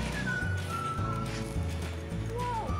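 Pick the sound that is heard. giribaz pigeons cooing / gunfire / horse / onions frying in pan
horse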